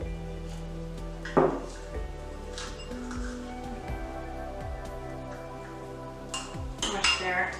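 A metal spoon clinks and scrapes against a bowl while thick coconut oil paste is scooped in, with several light taps and knocks spread across the stretch, close and fairly quiet.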